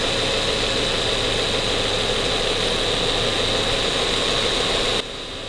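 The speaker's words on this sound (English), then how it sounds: "the compressor just kicked on." A car's A/C compressor runs during a refrigerant charge: a loud, steady engine-like drone with whining hum fills the scene, then drops sharply near the end, and no one talks.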